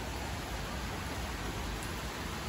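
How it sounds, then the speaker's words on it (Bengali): Steady, dense rainfall hisses evenly without letup, a soft broadband wash with no voices. "এত সুন্দর বৃষ্টি হচ্ছে।"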